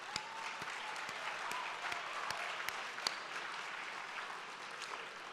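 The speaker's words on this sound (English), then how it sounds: "Let's give these partners a big round of applause." An awards gala audience applauds its corporate partners with steady, fairly faint and distant clapping, punctuated by a few sharper individual claps standing out from the hall.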